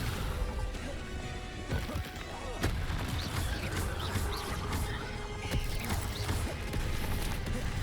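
In the Hogwarts Legacy video game, the Descendo spell slams an enemy down with a sequence of heavy thuds and crashing impacts, layered with combat clatter and a dense background score.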